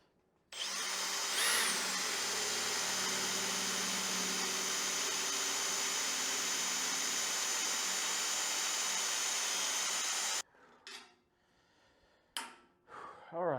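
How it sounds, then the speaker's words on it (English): A screwdriver drill bores a hole while a mobile forge is built in an apartment: a loud, even motor whine runs about ten seconds, then cuts off abruptly, followed by a few short clatters and handling noises. "I got the third hole done with the screwdriver."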